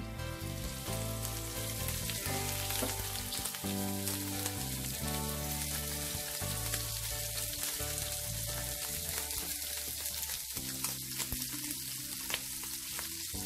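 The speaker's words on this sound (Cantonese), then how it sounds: "煎一煎嗰啲蝦先，" Shrimp frying in a pan for scrambled egg with shrimp, giving a steady, loud sizzle that runs unbroken throughout with no talking.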